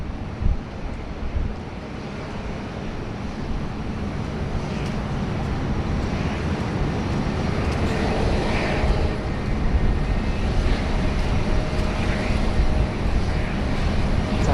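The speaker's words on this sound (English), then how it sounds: "Airbus A350 A330-200 arriving from Shanghai, just they're making the right turn onto the rapid exit Alpha 4" An Airbus A330-200 inbound from Shanghai taxis onto a rapid exit after landing at Sydney Airport, its broad, steady engine rumble and rushing noise continuous and moderately close, swelling slightly over time.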